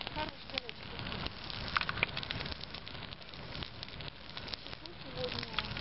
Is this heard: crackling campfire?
yes